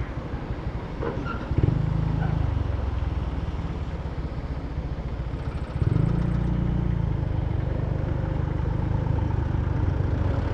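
A remapped motorcycle engine idles steadily with a low, continuous throb, close and loud, stepping up in level twice as the revs rise briefly.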